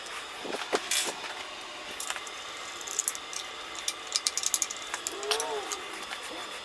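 A bracket being screwed onto a Triad drift trike during its electric conversion, with bursts of rapid ratcheting clicks and small metallic mechanism noises, close by and mostly in the latter half.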